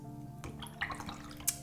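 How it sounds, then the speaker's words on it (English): A watercolor brush is swished and rinsed in a small water container, giving faint close splashes and drips with a couple of sharper taps, quiet and alone. "you can rinse in this and then you rinse again and it's all nice and clean"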